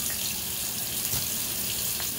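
Water running from a bathroom tap, a steady close hiss and splash of flowing water that stays even throughout, with no talking.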